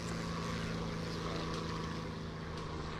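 A propeller plane of the Imperial Japanese Army Air Force drones steadily in a video game set over Hawaii, a constant loud engine hum with a low buzzing tone that runs without a break and without talk.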